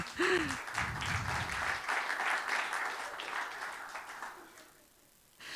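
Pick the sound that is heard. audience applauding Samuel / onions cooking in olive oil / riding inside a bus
audience applauding Samuel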